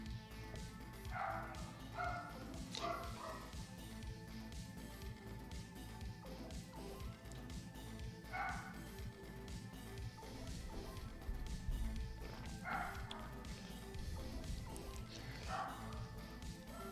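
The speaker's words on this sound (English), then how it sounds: "And the dog's gonna go nuts." Dogs bark in repeated short bursts from somewhere nearby, several separate volleys spaced a few seconds apart over a steady low background hum, with no talk over them.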